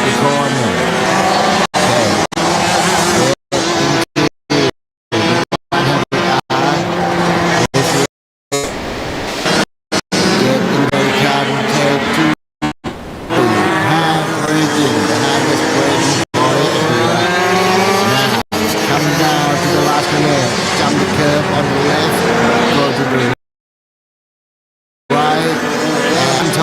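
Race car at the RMC Asia Trophy 2026 final day, cornering out of a right-hand sweeper on the circuit and driving toward the finish, loud and sustained engine roar with rising and falling pitch and brief dropouts, commentary talk underneath.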